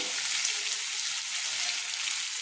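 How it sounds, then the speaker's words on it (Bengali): Fried sweet pumpkin pieces stirred in a hot pan, giving a steady close sizzle and faint scraping that runs without pause. "মিষ্টি কুমড়ো দিয়ে একটু ভালো করে আবারও নেড়ে নিচ্ছি"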